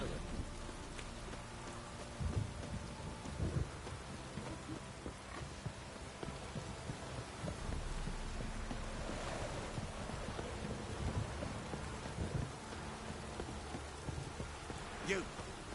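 Heavy rain in the video game The Witcher 3 pours steadily, a dense hiss of drops with occasional soft knocks and splashes.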